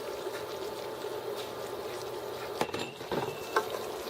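Jalapeno peppers are stirred into a cowboy candy mixture: quiet wet stirring and scraping with a few sharper clinks near the end, faint and close.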